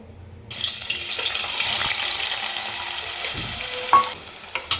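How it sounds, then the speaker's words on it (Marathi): Paneer frying in a pan for a dhaba-style shahi paneer, a steady close hiss of sizzling oil that starts abruptly and runs alone, with a few sharp clinks near the end. "तर आता आपण हे पनीर तळून घेणार आहोत"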